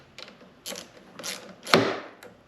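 A rodent repeller mount being tightened down under a car hood gives off a few separate mechanical ratcheting clicks. They come in short bursts, close and fairly clear, with no talking.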